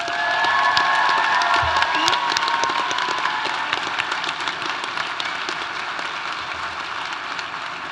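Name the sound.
audience applause and cheering at graduation ceremony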